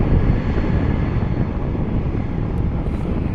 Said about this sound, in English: Touching down here on 24 left